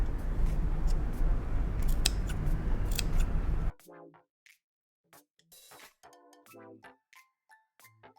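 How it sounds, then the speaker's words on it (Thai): Sharp scissors snip the seam allowance around a curved neckline, a run of brief crisp clicks scattered irregularly after a stretch of steady noise, close and fairly quiet with no talking. "เราก็จะ คลิปตะเข็บบริเวณส่วนโค้งรอบๆคอเสื้อเลยค่ะ"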